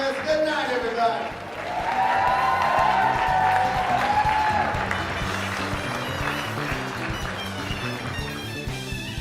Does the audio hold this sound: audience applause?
yes